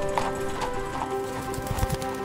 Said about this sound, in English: the clattering of horse hooves on the cobblestones